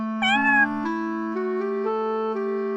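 A single drawn-out cat meow, loud and close, with a rising then steady wavering tone lasting a few seconds.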